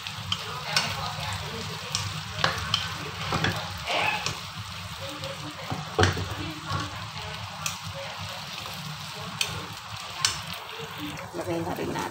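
Homemade chilli paste fries and sizzles in a pan while being stirred, a steady crackling hiss broken by scraping stir strokes.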